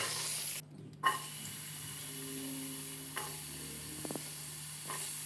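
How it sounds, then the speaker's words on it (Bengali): Capsicum frying lightly in a pan with salt and turmeric gives a faint, quiet sizzle with a few brief stirring scrapes and clicks. "হালকা ভেজে নিয়ে আমি ক্যাপসিকামটা তুলে নেব। আমি ক্যাপসিকামে দিয়ে দিলাম সামান্য পরিমাণ লবণ আর সামান্য পরিমাণ হলুদ।"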